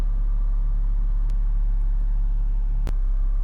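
A Hyundai i30 1.6 Comfort five-door running at idle, a steady low engine rumble heard from inside the car, with a couple of faint light clicks.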